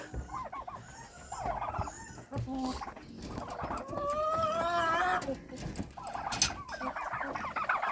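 Turkey poults and other fowl peep, gobble and chatter in a busy, close chorus, with overlapping chirps and calls throughout.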